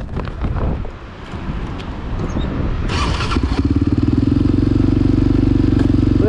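A Yamaha Raptor 700 ATV starts up after some wind and handling noise, then settles into a loud, close, rapidly pulsing single-cylinder engine run.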